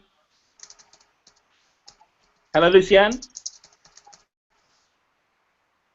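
Light typing on a computer keyboard during an online video call, sparse faint clicks scattered across the clip, with a short spoken greeting cutting in midway.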